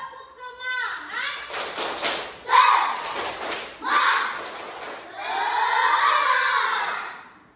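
Classroom children clap and thump in a rhythmic spirit chant, bursts of loud claps mixed with shouting and chanting voices filling the room.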